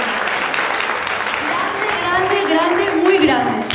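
Audience applause at a Spanish television awards gala, a steady broadband patter filling the clip while a voice talks over it and rises toward the end.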